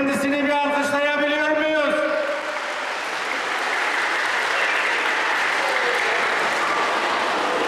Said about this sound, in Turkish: Kendisini bir alkışlayabiliyor muyuz?